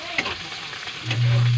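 Onion sautés in a hot pan for chicken curry, a brief close sizzle with a couple of stirring taps, joined by a steady low hum at the end.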